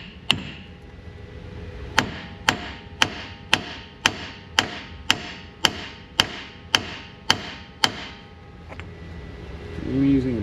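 Brass hammer taps on a Jeep Wrangler JK ball joint, struck while separating it during a death wobble repair: about a dozen sharp, evenly spaced metallic strikes, close and loud, followed by a low rumble at the end.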